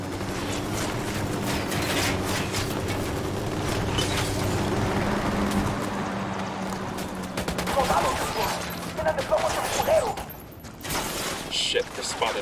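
Rapid bursts of automatic gunfire in the tactical shooter Ghost Recon Wildlands on Xbox One X, a steady rattle over low engine hum, with voices speaking throughout.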